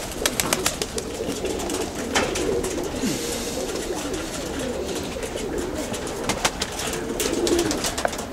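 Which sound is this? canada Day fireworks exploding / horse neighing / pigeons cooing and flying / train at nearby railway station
pigeons cooing and flying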